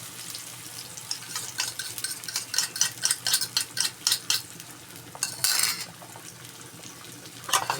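Egg and tomato cooking in a pan, with a run of quick rhythmic stirring scrapes and clinks from a utensil over a soft sizzle, followed by a brighter burst of sizzling near the end.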